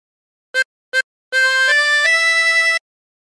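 Two brief staccato notes on a tremolo harmonica are followed by a longer legato run of three sustained tones shifting downward, bright and reedy with a shimmering waver, played close with no voices.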